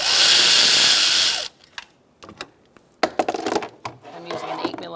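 A power tool with an 8mm socket spins off a hose clamp on a 2004-2009 Mazda 3, whining loudly and steadily for about a second and a half, then stopping, followed by scattered clicks and clanks of handling.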